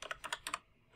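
A brief burst of about five quick computer keyboard keystrokes typing a URL into a web browser, then a short gap and one more key press, close and fairly quiet.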